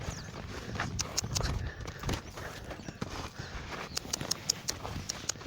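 A horse's hooves clip-clop on the ground in an uneven rhythm as it is worked from the ground and taught to step sideways, with close, varied footfalls.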